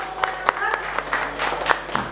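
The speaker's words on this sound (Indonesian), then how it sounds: "Berikan tepuk tangan lebih meriah lagi" Easter service church congregation clapping in rhythm, close and lively with regular sharp beats, a voice speaking over the applause.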